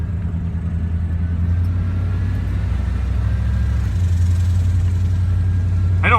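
Steady low engine rumble of a car or truck being driven on a short trip around a neighbourhood corner, a continuous close drone with a slight rise in pitch near the end.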